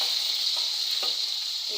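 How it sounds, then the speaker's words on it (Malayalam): Chopped curry leaves, green chili, ginger and garlic drop into hot oil in a clay pot and sizzle steadily, with a few soft stirring clicks over the continuous hiss. "ഇത് ഞാൻ ചട്ടിയിലോട്ട് ഇടുവാണ്."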